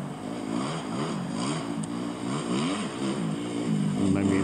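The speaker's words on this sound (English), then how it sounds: "That little drone does the best it can to keep up with these guys" A small camera drone's propellers buzz continuously while following dirt bikes riding at Washer Valley, the whine rising and falling with the engines' revving underneath.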